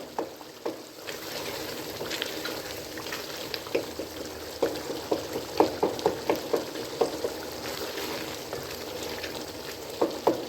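Potatoes frying in a pan for chicken pota, a steady close sizzle with scattered crackles and stirring clatters throughout, no voices over it.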